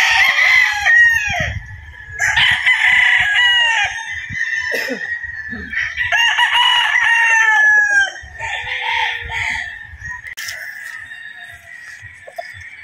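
Several roosters in a conditioning flying pen crow loudly and repeatedly, long overlapping calls with clucking between them, close by and with no talking.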